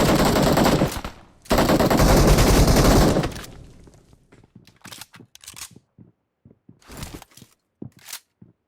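Loud bursts of automatic gunfire laying down cover fire in PUBG Mobile, two long sustained volleys, then scattered single shots and clicks trailing off into sparse, quieter reload and handling sounds.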